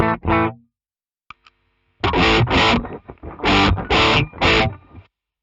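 Electric guitar through a Guv'nor overdrive pedal playing loud, crunchy chord bursts, a short stab first, then a run of sustained distorted chords with brief gaps.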